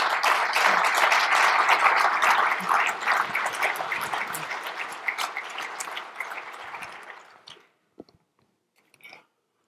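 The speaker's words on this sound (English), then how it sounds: "Let's give her one more round of applause." An audience applauds after a keynote talk, with dense sustained clapping from a crowd that gradually thins and fades out to a few scattered claps and then silence.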